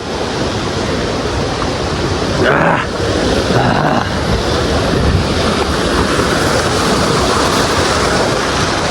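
A mountain stream rushes steadily nearby, a broad continuous wash of flowing water with some wind buffeting the microphone and a brief louder gust partway through.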